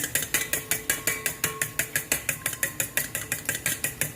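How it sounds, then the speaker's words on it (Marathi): Two eggs and cubed paneer are being beaten for a spinach paneer omelette, producing a fast, steady run of sharp, close clicking strokes, about five per second, with no talking. "एका साईडला मी अंडे दोन फोडून घेतले त्याला चांगलं असं फेटून घ्यायचे"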